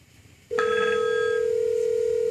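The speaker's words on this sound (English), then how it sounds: "Key in the extension and dial." VoIP desk phone after keying an internal extension, a short hush then a steady, loud, continuous electronic tone that holds unbroken to the end.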